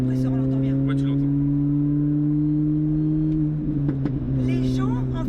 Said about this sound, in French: Ah, le compresseur, on l'entend bien.